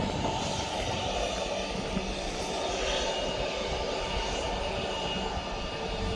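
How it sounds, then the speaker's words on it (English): A Loganair Embraer ERJ 145 regional jet heads out on departure to Aberdeen, a steady, moderate engine roar and broadband rumble at a distance, heard alone without talk. "And then we've got the Logan Air going back to Aberdeen. That's the Embraer ERJ"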